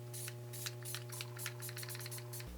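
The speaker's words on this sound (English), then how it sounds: "I'm gonna take my Rimmel Stay Matte Fix and Go. This is a really nice little spray." Rimmel Stay Matte Fix and Go setting spray misted in a series of short, soft hissing bursts over a steady low electrical hum, close and fairly quiet.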